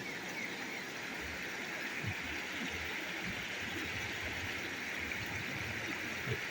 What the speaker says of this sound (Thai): เราได้ยินเสียงน้ำ